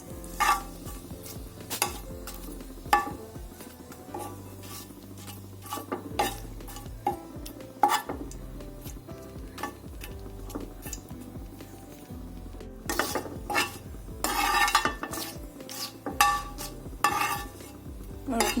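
Bay leaves and cardamom pods frying in hot oil for carrot halwa, with frequent sharp clinks and scrapes of a spoon stirring against the pan over a constant sizzle.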